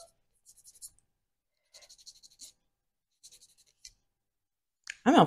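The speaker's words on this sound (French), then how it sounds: "Attendez, je vais quand même le limer un peu." Short bursts of scratchy rasping as a nail file strokes a fingernail, three separate quick rubbing passes with pauses between, close and fairly quiet, followed by a brief louder noise at the end.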